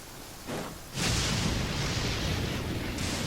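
Booming thunder crashes out of the Genshin Impact video game during a rainy storm, a brief thump followed by a loud, sustained rumbling roar with a steady wash of rain hiss.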